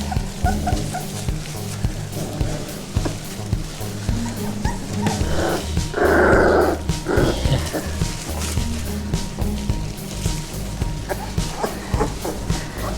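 Three-week-old Vizsla puppies whimper, yip and squeal in a busy, continuous chorus, with one louder yelping cry near the middle, close by and over a steady background.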